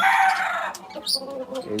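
Chickens cluck and squawk nearby in short bursts, one loud call at the start followed by quieter scattered clucks.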